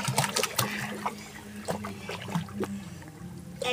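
Water trickles and splashes while a pet named Sittu is bathed with shampoo, with irregular close dribbling and wet sloshing movements at moderate level, no talking.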